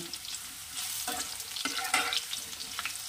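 Cumin seeds and bay leaf tempering crackle in hot oil with a steady broad sizzle, while a few louder scraping stirs of a spatula break through near the middle.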